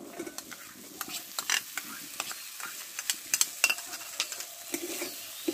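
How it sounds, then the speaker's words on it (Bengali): Boiled chana dal is sautéed with spices in a pan for a vegetarian potol dish, a soft background sizzle under frequent quick scraping and clinking stirs of a spatula. "মশলার সঙ্গে একটু কষে নেবো ডালটাকে।"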